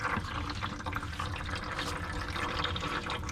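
Coolant drains from a first-generation Scion tC into a pan beneath the car, a steady watery trickle and splash that runs without a break, fairly close and continuous.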